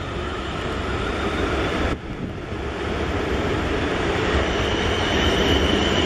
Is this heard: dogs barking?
no